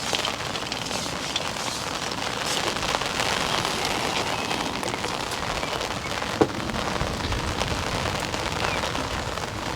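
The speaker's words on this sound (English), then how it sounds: "Blasted rain." Steady rain falls throughout at an outdoor fishing lake, a dense, even patter on surfaces with one sharper knock partway through.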